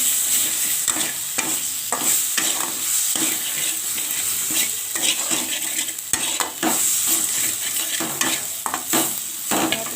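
A spice paste of ground masala, turmeric and green chillies sizzles in a pan and is stirred continuously, with a loud, steady frying hiss broken by repeated scraping strokes of a spatula.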